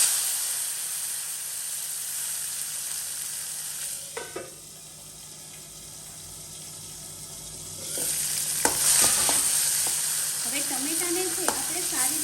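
Cumin seeds, curry leaves and chopped tomato sizzle and sputter in hot oil in a pan for Kathiyawadi dahi tikhari, with a steady frying hiss, a quieter stretch midway, then louder crackling and a few sharp pops near the end.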